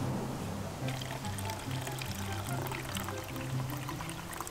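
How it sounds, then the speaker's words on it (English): Lemonade poured into a cup during a kids' pretend lemonade stand, a steady close liquid stream running throughout under a low background hum. "Fluff, you're gonna pour the lemonade"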